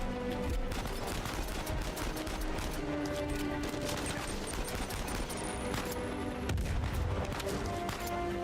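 Enemy gunfire in the video game Uncharted 4, a dense, continuous clatter of rapid shots and bangs over a steady loud game soundscape.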